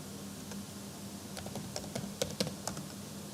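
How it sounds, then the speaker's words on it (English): A command is typed on a computer keyboard in a quiet room: about a dozen light, close key clicks, sparse at first, then faster, with a faint steady hum underneath. "Now the next thing is to generate the reports, for which I have to type the command report"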